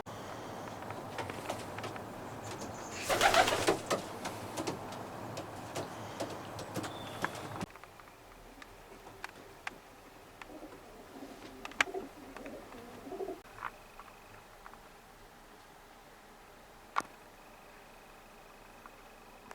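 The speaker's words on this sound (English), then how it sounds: "Another great Haley pigeon." Racing pigeons coo softly in a loft, low murmuring calls scattered over a quiet room, with sharp knocks and wing or foot taps, and a louder rustling burst early on.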